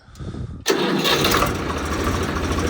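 A Swaraj 735 tractor engine cranks briefly, then catches and roars into a loud, steady idle right up close.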